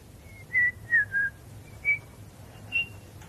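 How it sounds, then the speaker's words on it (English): A person whistles softly in a few short, gentle notes at slightly varying pitches, spaced irregularly over a quiet background hum. "Can you whistle? Try whistling."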